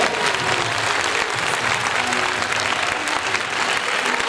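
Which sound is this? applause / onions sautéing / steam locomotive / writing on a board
applause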